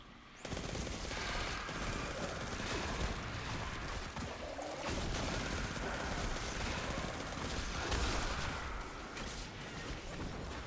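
Rapid automatic fire from the Telesto weapon in Destiny 2, played on PS4, runs as a loud, dense, continuous burst for nearly the whole stretch, with short hits and brief surges overlapping without pause.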